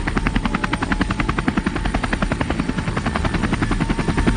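An Air America helicopter flying close by in Laos, its rotor thudding in a fast, steady, loud rhythm that fills the whole stretch with no voices.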